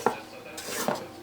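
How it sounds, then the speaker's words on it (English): A utensil scrapes around a mixing bowl holding creamed pound cake batter, with two quick clinks against the bowl and soft smearing scrapes in between, close and fairly quiet. "So I'm going to scrape down the sides of the bowl"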